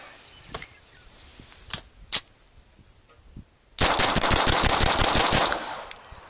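Rifle fire: a few scattered single shots, then a loud sustained burst of rapid rounds dumped from a magazine, close and dense, ending abruptly.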